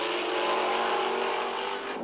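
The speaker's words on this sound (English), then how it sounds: "the best fight right now is that fight for second between Horst Kroll and Jim Crawford." Can-Am race cars roar around Mosport Park in a 1984 race, a loud, dense engine howl that sweeps past and starts to fade at the end.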